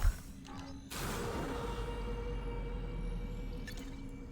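A door groans and creaks under force in the Five Nights at Freddy's horror game, a sharp impact near the start giving way to a long, steady grinding strain.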